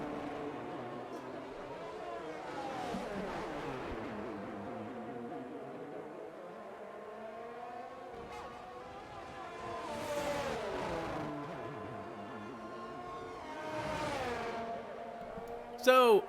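Race cars lapping a track during qualifying in a PC sim racing game, engines rising and falling through gear shifts and revving passes, with the mid-pitched engine tones sweeping repeatedly and steadily.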